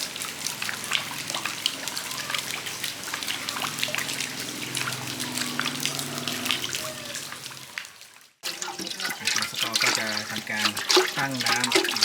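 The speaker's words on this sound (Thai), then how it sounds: "ทำการล้าง เนื้อปลาก่อนจะทำอาหารค่ะ ครับล้างให้สะอาดก่อนนะครับ" Pieces of carp being rinsed under running water before cooking, with a steady trickle and splashing near a tap that cuts off briefly and then resumes. People are talking throughout.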